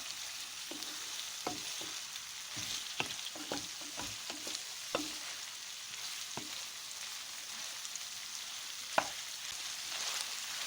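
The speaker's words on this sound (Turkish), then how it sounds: "doğranmış yeşil biberleri ve kırmızı biberleri de ekleyerek kavurmaya devam edelim." Steady sizzling of chopped green and red peppers frying in a pan, with intermittent scraping and tapping as they're stirred, close and fairly quiet.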